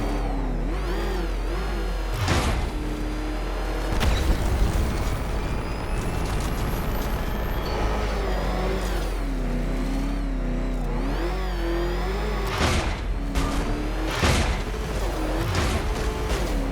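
Batmobile from Batman Arkham Knight roaring through a lap, its engine revving up and down in loud, close surges with sharp bursts of thrust and a few hissing blasts standing out along the way.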